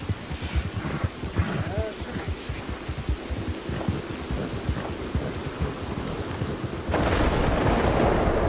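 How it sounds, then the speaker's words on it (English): Thunder and rain in the video game Red Dead Redemption 2: steady rainfall under low rumbling thunder that grows louder near the end. "Honestly, I hate thunder so much."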